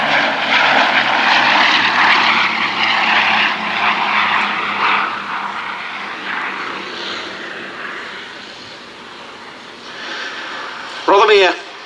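Propeller aircraft engine roaring at the 2017 Duxford Battle of Britain air show, a loud broad drone that gradually fades as the plane passes, with a commentator speaking over it.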